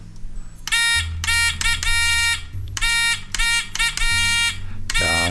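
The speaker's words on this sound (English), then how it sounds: "the letter Q is 2 dashes, a dot, and a dash" A buzzy electronic tone keys out Morse code for the letter Q, two long dashes, a short dot and a dash, sounding loud and harsh over a low background hum, then repeats the pattern and ends with a brief warbling tone.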